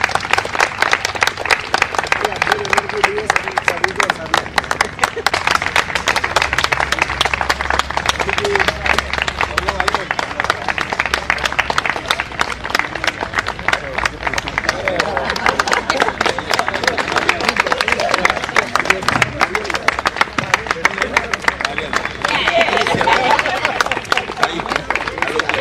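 Audience applause after a Surya Kriya yoga performance, steady dense clapping from a crowd sustained for about twenty-five seconds, with background chatter and voices mixed in throughout.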